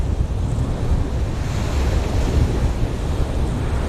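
Strong wind buffets the microphone on Great Yarmouth North Beach while surf rolls in steadily, a loud continuous rumbling roar with no voices.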